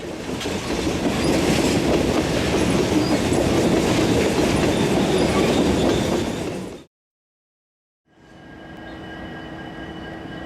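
A manifest freight train rumbles past with steady clickety-clack of wheels, loud and close, then cuts out briefly before resuming at a lower level.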